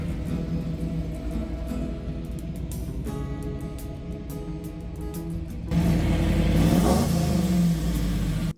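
A 1960s Camaro RSSS with a factory 396 big block engine rumbles at idle with a lumpy low burble, then revs up sharply into a louder, fuller roar that holds briefly before cutting off.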